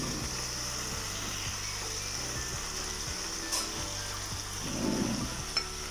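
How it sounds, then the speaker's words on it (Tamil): Ground masala paste frying in a pan for Madurai-style spicy pepper chicken, with a soft, steady sizzle, a low background hum and a couple of brief clicks and bubbling bursts toward the end. "நாம அரைச்சு வச்சிருக்கிற மசாலாவை இதே போடுங்க"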